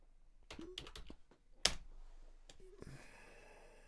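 Keys tapped on a computer keyboard to enter a name in a ZX Spectrum game, a few soft scattered clicks with one sharper press, quiet and close.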